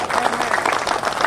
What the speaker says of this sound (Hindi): अरे भाई तालियां बजा दीजिए